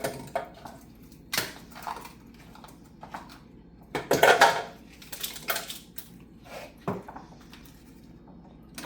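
Ice cubes clattering and tumbling into a glass for an iced cappuccino, a few scattered sharp clinks and rattles, with one denser burst of crunching in the middle, close and fairly quiet.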